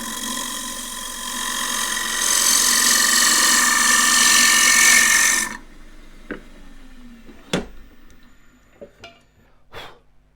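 A wood lathe spins a bowl while a 3/8 spindle gouge cuts into it, giving a steady loud scraping whine for several seconds that stops abruptly, followed by a few sharp knocks.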